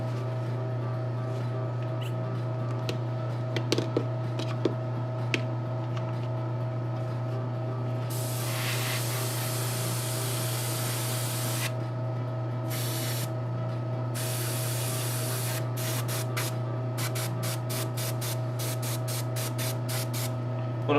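Flesh-tone base coat paint sprays onto shoes in several bursts of airy hiss, some long and some short and rapid, over a steady low hum in the room.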